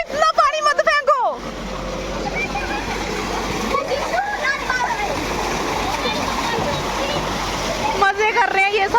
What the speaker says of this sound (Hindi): वाह इतना पानी मत फेंको।